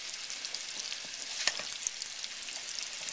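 Gravy made with half and half being stirred in a hot pan, a quiet steady bubbling sizzle with soft utensil scrapes and a few light clicks, no talking.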